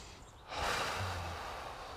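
One deep breath in and out at a Wing Chun lesson, heard close as a long, soft, airy rush that swells and then fades slowly, with no talk.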